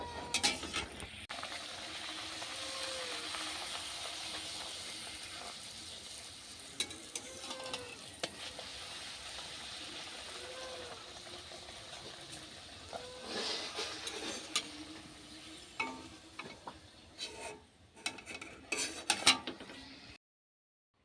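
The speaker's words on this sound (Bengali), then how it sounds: "চলো লুচিগুলো ভেজে নিই" Luchi puffed flatbreads fry in hot oil, a soft continuous sizzle with occasional bubbling swells, then scattered clinks and scrapes of a utensil toward the end before falling silent.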